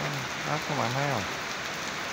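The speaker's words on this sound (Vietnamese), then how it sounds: "Mưa gì đây mà trời thì cứ mưa" Steady rain hisses evenly in the afternoon while someone speaks briefly over it, his voice close and clear above the wash of falling water.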